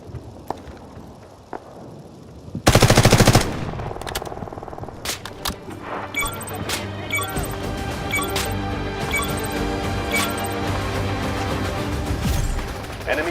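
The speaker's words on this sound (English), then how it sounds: "Somebody's bloody shooting me!" Video game gunfire aimed at the player: a sudden loud burst of shots, then continued cracks and impacts under busy game sounds, with some speech present.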